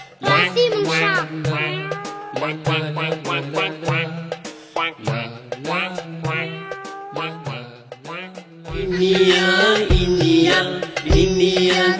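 A cat meows again and again in a long run of drawn-out, wavering cries, some short and some stretched, loud and close with little else around them.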